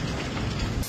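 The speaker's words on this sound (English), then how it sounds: "We're in a hailstorm. You see the hail coming down and bouncing." Hail pounding down during a severe storm in St. Louis, Missouri, a dense, loud, continuous hiss and rattle of stones striking surfaces close by, with no voices over it.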